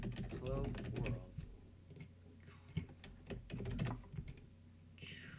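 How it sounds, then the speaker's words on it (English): Quiet clicking of a computer keyboard as a short phrase is typed while working in Visual Basic 2010, with light rapid keystrokes in small bursts and someone speaking now and then. "Let's type hello world."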